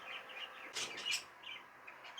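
Young show birds chirp in short bright bursts, with a few louder calls standing out over a steady faint background of twittering.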